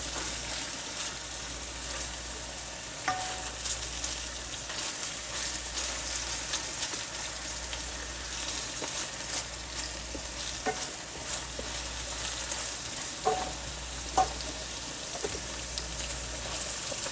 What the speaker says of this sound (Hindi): ये देखो ब्राउन करने हैं प्याज।